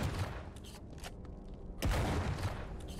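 Shotgun blasts from the video game Wrath: Aeon of Ruin, a sharp loud report around the middle followed by a rumbling boom, set against steady game noise.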